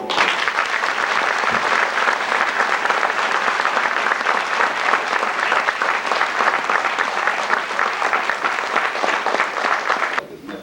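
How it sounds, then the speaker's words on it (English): Steady audience applause at a police academy graduation ceremony, a dense, loud wash of many hands clapping continuously for about ten seconds before cutting off abruptly, with faint voices underneath. "How about a round of applause?"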